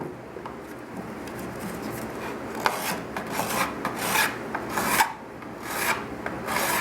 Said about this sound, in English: If you'll just color that in with your Sharpie, and then you take your file